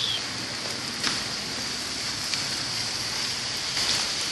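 Heavy rain falls steadily outside an office during bad weather, a dense continuous hiss with a few faint louder drops or splashes and no talk.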